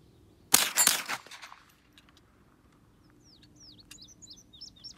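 A rapid burst of gunfire cracks loudly nearby for about a second, then fades, leaving birds chirping in the background.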